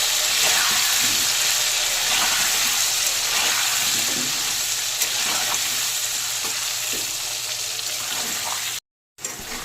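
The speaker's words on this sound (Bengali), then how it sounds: "আলুগুলো ভাজা হয়ে গেছে তুলে নেব" Potatoes sizzle and crackle in hot oil, a continuous, close frying hiss with occasional soft pops and stirring.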